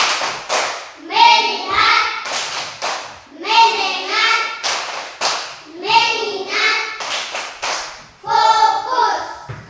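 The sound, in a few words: children doing the 'tepuk fokus' clapping routine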